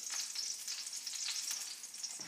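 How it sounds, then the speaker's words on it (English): Pancake batter sizzles and fries steadily in a hot pan, a continuous close crackling hiss with no talking. "If it sizzles, it's ready. So I'm going to just drop it down in."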